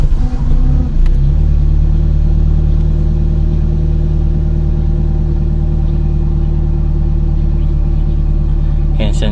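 A Nissan Platina with a K4M engine cranks briefly and catches on the first try, then settles into a steady, loud, even idle that continues alone without voices.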